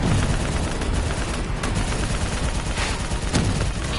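Dense, continuous gunfire in Call of Duty Black Ops 3 aimed at a VTOL aircraft, loud and sustained with rapid overlapping shots and a few sharper cracks throughout.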